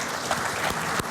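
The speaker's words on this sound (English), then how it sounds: "Big round of applause for Khalid Al Nabouda." Conference audience applauding at an Arabian horse racing forum in Madrid, a steady dense patter of many hands clapping throughout a short burst.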